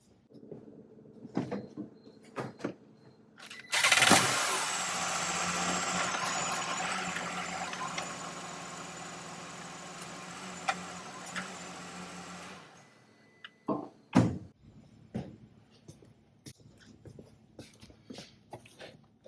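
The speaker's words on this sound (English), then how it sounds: "So we'll go ahead and start it up, put the gear shift in every gear, and shut it back off." The engine of a 2012 Honda Odyssey cranks and catches, then runs at a steady idle for about eight seconds before shutting off. Scattered clicks and clunks come before and after.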